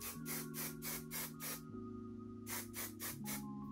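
Pump spray of a travel-size Nexxus comb-through finishing mist onto hair: bursts of hiss in two runs, one of about five quick sprays and then a second of about four, close and clear over a steady background hum.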